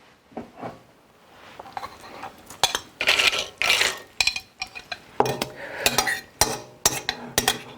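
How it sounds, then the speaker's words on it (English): A metal spoon scrapes and clinks against a hot dish while serving taco meat onto nachos, a run of irregular close-up clatters and scoops, sparser at first and then coming in quicker bursts. "I'm going to get my spoon and serve that on top"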